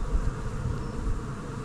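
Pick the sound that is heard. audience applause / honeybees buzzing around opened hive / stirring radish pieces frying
honeybees buzzing around opened hive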